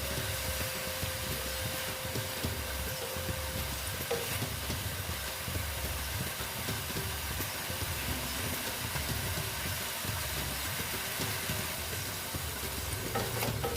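Vegetarian soybean masala sautéing in a pan, a steady close sizzle with scraping stir strokes throughout, no talking.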